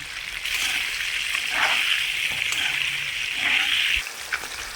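Potatoes seasoned with salt and turmeric fry in a pan, giving a close, continuous sizzling hiss that cuts off near the end, followed by a brief clatter.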